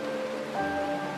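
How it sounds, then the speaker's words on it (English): Steady rain in the video game Honkai: Star Rail hisses continuously, with sustained musical tones layered over the downpour. "This is the sound of rain."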